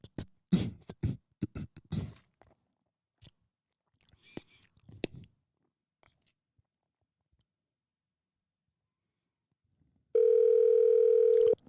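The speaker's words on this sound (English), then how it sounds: "Y'all can hear the phone ringing." A telephone ringback tone from an outgoing call sounds as one steady, loud continuous tone near the end, following a stretch of scattered talk and faint handling noises.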